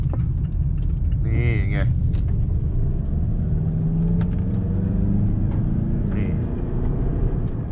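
Mazda CX-8 top diesel SUV, 190 hp, making a U-turn, a steady engine rumble with road noise throughout, while someone talks over it and a brief high squeal rises early on.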